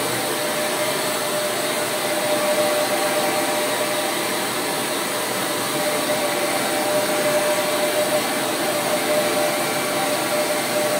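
A hair dryer blows in a steady, loud, unbroken whoosh while someone gets ready for a quadrilha festival.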